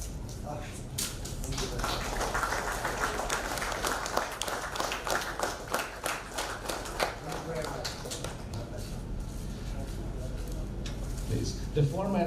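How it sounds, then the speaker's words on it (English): Audience applause greeting Professor Feringa at a Dutch Embassy evening event, a moderate patter of clapping that thins out over several seconds while a voice talks over it. "We welcome you with a wave of applause."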